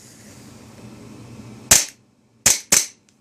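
Polymer gas blowback Glock 17 airsoft pistol fires three sharp, loud cracks after a stretch of quiet room noise, one shot alone then two in quick succession, each ending in a brief snap of the cycling slide.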